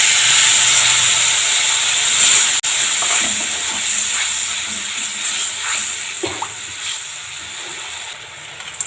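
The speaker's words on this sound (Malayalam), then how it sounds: "മുളകൊക്കെ ഒന്ന് വഴഞ്ഞ് നോക്കി പുളിവെള്ളം ഒഴിച്ചു കൊടുക്കാം." Tamarind water hits a hot pan of chillies with a loud, continuous steamy hiss that fills the scene, broken by a brief clack and a few bubbling pops as it slowly settles.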